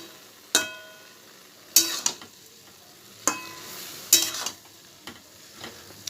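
A spoon stirs shrimp and ash gourd curry with green chili in a pan, giving a few sharp metallic scrapes and knocks spaced over a low, continuous sizzle, heard up close and with no talking.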